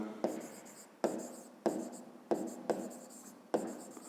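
Pen or pencil writing on paper while drawing and labelling the angles of a triangle in a fifth-grade math exercise; six sharp strokes each start a scratchy sweep, close and clear with no speech.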